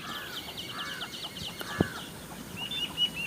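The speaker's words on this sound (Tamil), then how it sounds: "இந்த கோழி குஞ்சு பாருங்கள்" High, repeated chirping of native chicken chicks fills a poultry shed, with a few clucks and a brief knock in the background.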